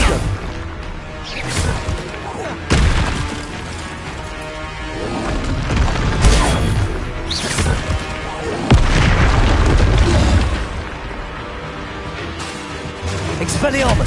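Fiery and blasting spells in Hogwarts Legacy on PS5, repeated loud booms and explosive whacks in quick bursts, mixed with shouted incantations and combat effects.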